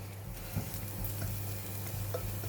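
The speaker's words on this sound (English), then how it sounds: "Gonna fry the garlic until golden brown." Garlic frying in oil in a pan for a noodle soup, a close steady sizzle with soft stirring scrapes and a low hum beneath, no voices.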